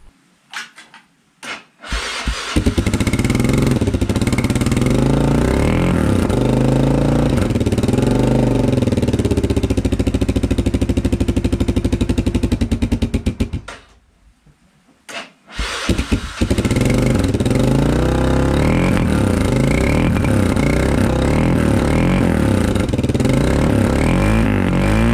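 A Honda 300 ATV engine starts with a few sputters, then idles and revs hard and loud up close, cuts out briefly, and restarts into continued rough revving.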